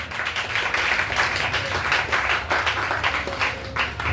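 A church congregation applauds and cheers loudly in worship, dense steady clapping with voices filling the room throughout.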